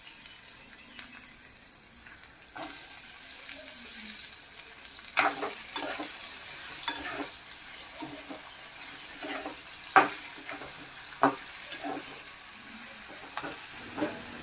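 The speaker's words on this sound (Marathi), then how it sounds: "आणि आता फोडणीवर टाकून द्यायचं।" Red pumpkin pieces frying in a spiced tempering: a soft, steady sizzle broken by sharp clinks and scrapes of a spoon stirring in the pan, recorded close without speech.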